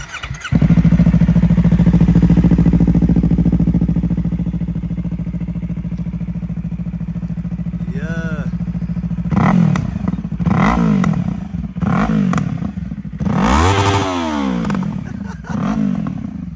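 A 2025 Yamaha R3 sport bike fitted with an SC Project slip-on exhaust idles steadily, then barks through a series of sharp, loud throttle blips close by, with rising and falling revs.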